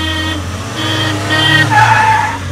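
Mahindra Scorpio and Mahindra XUV300 launching side by side in a drag race, loud engines revving with high tire squeal and skidding tones over a steady low rumble, no talking.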